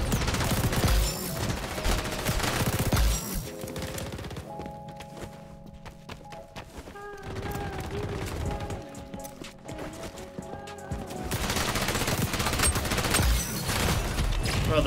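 Rapid bursts of automatic gunfire from the XDefiant shooter video game come in rattling volleys, loud at the start and end with a quieter stretch in the middle, and no voices over them.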